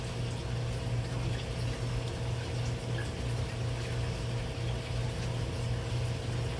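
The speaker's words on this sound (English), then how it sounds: "now we're going for the final rinse" A frozen-food auto feeder for an aquarium runs its final water rinse, a steady, continuous churning wash of water with a low pump hum underneath, loosening particles of brine shrimp and drawing them into a funnel container.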